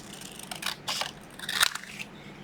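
Scissors snip through a paper swatch for quote art, a few crisp crunching cuts spaced over a couple of seconds, close and fairly quiet with no talking.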